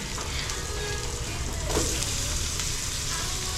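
Chicken hotdogs fry in a pan with onion and garlic, a dense, steady sizzle that stays loud and close throughout with no talking.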